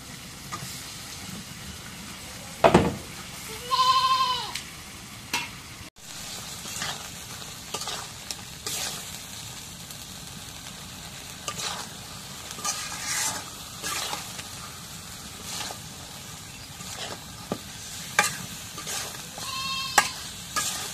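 Fish frying in a red spice masala in a pan, with a steady close sizzle and crackle broken by occasional stirring scrapes and clinks.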